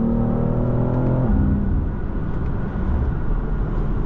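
A 2023 BMW X4 M engine accelerating hard, a loud continuous growl with rising harmonics that shift upward as it revs, then settle into a steady roar inside the cabin.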